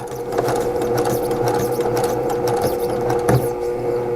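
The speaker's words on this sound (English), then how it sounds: "I'm just going to actually eyeball it and sew kind of on the slow side." A sewing machine runs at a slow, steady pace as it stitches a diagonal line across a small patchwork tote bag. It makes a close, continuous rhythmic whir.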